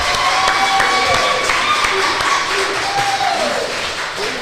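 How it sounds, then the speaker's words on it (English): A live crowd at Hayes County applauds and cheers for the Rattler of the Week, a steady, dense wash of clapping that holds at full strength and eases slightly near the end. "Live crowd here at Hayes County. Let's give it up for our Rattler of the Week."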